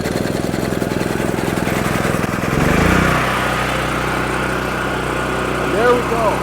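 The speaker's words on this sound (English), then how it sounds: "Now you can hear the generator working." A gas portable generator runs with a rough, chugging engine rhythm, then its note shifts into a steadier, louder drone as it settles. It stays close and continuous, and a voice speaks over it.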